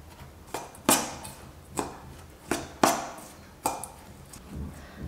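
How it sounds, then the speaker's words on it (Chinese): A bowl of sugar, milk powder and cooked oil filling is stirred by hand, giving a series of sharp scraping clacks roughly every second, loud and close, with no voices. "再来一点熟油，充分的搅拌均匀"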